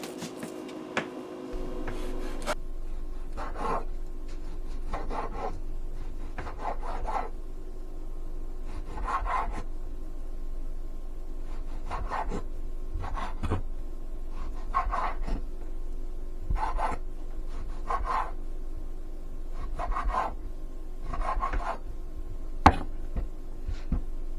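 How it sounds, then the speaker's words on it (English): A knife cuts steak into strips on a cutting board, giving a steady run of repeated soft chopping strokes, about one or two each second, close and moderately loud against a faint background hum. "First, we're going to chop up our steak into strips."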